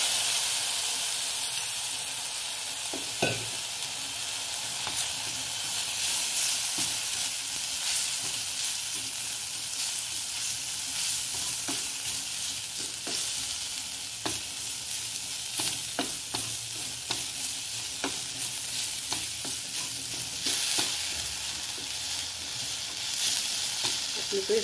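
Ginger-garlic-chili paste sizzles in a pan after a splash of water goes in, a constant close hiss broken by repeated spoon scrapes and clatters against the pan.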